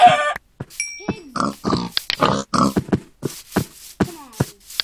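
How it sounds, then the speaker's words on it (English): Pigs in the video game Minecraft grunting and oinking in a quick series of short bursts, several separate snorts spread across a few seconds with brief gaps between them. "Pigs!"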